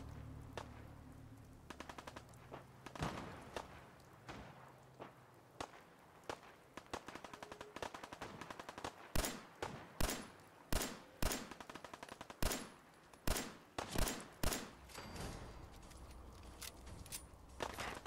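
Gunfire in Fallout 4 survival mode: scattered single shots early, building to rapid bursts of sharp cracks near the end, with footstep-like shuffles and clinks between, fairly quiet overall and no talking.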